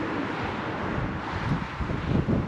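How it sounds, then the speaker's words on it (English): Gusty wind buffets the microphone beside a small roadside creek in winter, a steady low rumble that swells and roughens toward the end, with no voices. "this wind is real rough today"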